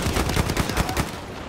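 Rapid gunfire in the Battlefield 1 video game, shot from a weak weapon at long range: a loud, steady string of close shots in quick rhythm lasting over a second, then trailing off.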